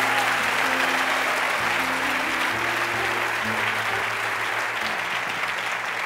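A church congregation breaks into loud, sustained applause and cheering, a dense wash of clapping filling the room for several seconds while voices drone underneath.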